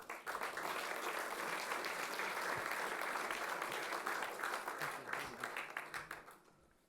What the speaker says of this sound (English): A round of applause for both.